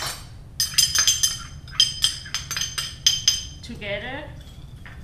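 Fish sauce, lime juice, sugar and chili being stirred together in a bowl for a Thai glass noodle salad, with repeated clinking of a utensil against the dish in short bursts and a voice speaking briefly.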